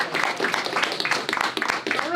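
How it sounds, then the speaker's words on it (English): Students applaud together: dense, steady clapping from a crowd, mixed with cheering voices and chatter, continuing throughout without a break. "y'all can give them a round of applause"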